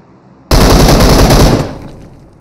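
Sustained burst of automatic gunfire in the PUBG video game, loud and continuous for about a second after a sharp onset, then fading away.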